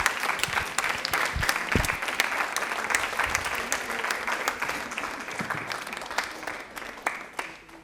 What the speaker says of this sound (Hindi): एक बार जोरदार तालियां होनी चाहिए इन दोनों के लिए